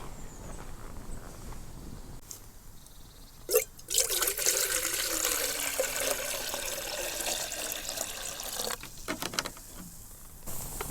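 Water pours steadily into a kettle to be boiled at a woodland camp, a bright rushing stream lasting several seconds with brief knocks and handling sounds before and after.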